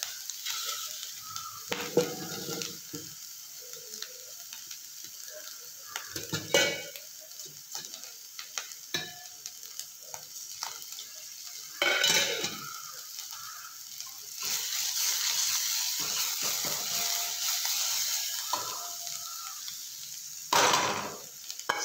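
Ginger garlic paste sizzling in a pan over low heat while a spoon stirs and scrapes it, close hissing sizzle with intermittent metallic scraping and clinks, no speech.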